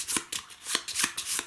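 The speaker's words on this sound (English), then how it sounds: "so we're going to shuffle these." A stack of Warhammer Quest level 1 enemy cards being shuffled by hand, several quick riffling bursts in an even rhythm, close and crisp with no talk.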